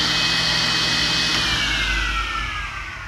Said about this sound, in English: I can actually hear myself think above this table saw.